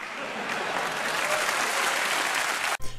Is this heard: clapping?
yes